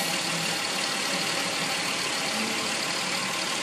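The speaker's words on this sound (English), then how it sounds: "Go ahead and start it, let it idle" A Ford Explorer engine idles during a 5R55S transmission service, a steady, even hum that runs unbroken and fairly close, with no talking.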